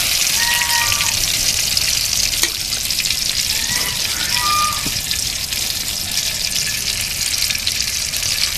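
Spices frying in hot oil for a jackfruit dish, a loud, dense, continuous sizzle close up with occasional light clinks from stirring.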